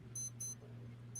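Short high electronic beeps sound in a quick pattern, two close together then another starting, faint over a low steady hum.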